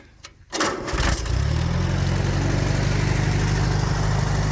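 An old tractor engine cranks, catches after a short moment and runs on at a loud, steady idle, with a low rumbling throb close by.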